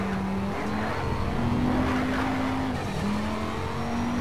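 Race car engine in the Need for Speed Shift video game, a loud steady drone with rising and dropping revs as gears shift, with faint tire noise, continuous throughout.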